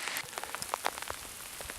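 Rain falling on the promontory of Eraclea in Sicily in early October, a close, steady patter of drops hitting surfaces with scattered sharper splashes, heard alone.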